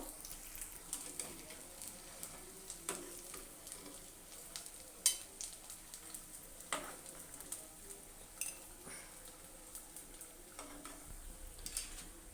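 Potato chops frying slowly in oil, a faint steady bubbling sizzle with scattered soft ticks and clinks of a utensil, heard without talk.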